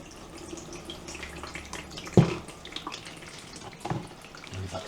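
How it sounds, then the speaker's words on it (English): Water pours over potted houseplants and drains through the pots, giving soft trickling and dripping with one sharper splash partway through, all faint and close with no talking. "gives that a really good water through"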